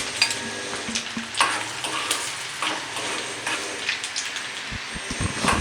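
Crushed garlic fries in oil with chana dal and urad dal in a pan, a steady crackling sizzle with scattered pops and occasional stirring scrapes near the end.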